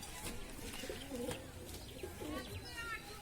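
A pair of domestic Giribaz pigeons coo softly in short rolling phrases, with a few light chirps, fairly faint and close by over a few seconds.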